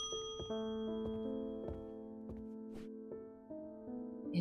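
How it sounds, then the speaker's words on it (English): A video-game bell is struck repeatedly, each ding ringing out with a sustained metallic tone that overlaps the next, fairly quiet with no talking. "let's ding the bell"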